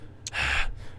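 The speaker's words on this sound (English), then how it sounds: "Heavy breathing." Heavy breathing from a character in the Tsukihime visual novel, a sharp gasping intake followed by a long, loud, close breath out, heard alone.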